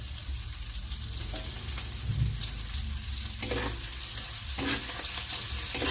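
Garlic tipped into light-brown hot oil in a frying pan for pakbet, a steady close sizzle with a few scraping stirs, no voices.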